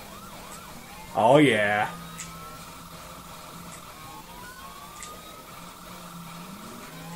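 Police sirens wail in the video game GTA IV during a six-star getaway, faint rising and falling tones running steadily under engine and game noise, with a brief spoken exclamation near the start.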